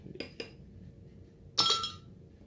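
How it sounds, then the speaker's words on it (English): A metal spoon clinks against a dish twice in quick succession as it is lifted out during heavy cream preparation, followed by a louder, ringing clatter a second later, crisp and close in a quiet kitchen. "Take this spoon out of here."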